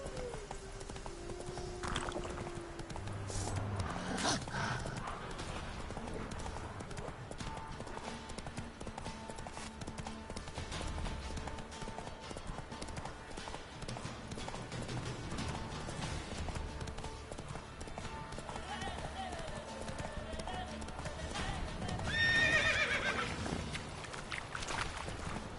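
Roach the horse galloping in The Witcher, a steady run of hoofbeats over other game sounds and a brief rise near the end, with no clear speech.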